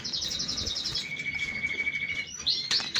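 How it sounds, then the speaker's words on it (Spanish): Young birds chirp in an aviary, with a fast run of high tweets followed by a long steady whistle and a few sharp calls near the end, all close and clear against faint background noise. "Mira qué pichón, tiene 30 y pocos días."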